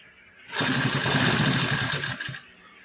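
A sewing machine runs a steady burst of about two seconds, stitching a second line over an earlier seam on a half collar at a garment neckline, loud and close, with quiet room tone before and after.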